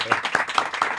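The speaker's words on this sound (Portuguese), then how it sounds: "Plateia, palmas para David Leonardo." A studio audience gives a brief burst of clapping, four or five separate, close claps over about a second with no voices.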